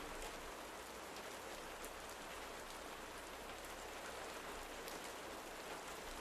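Steady rain falls as a continuous, even wash of droplets on a surface, close and moderately loud throughout, with no voices, serving as a calm ambient bed for a mountain folk horror sleep story.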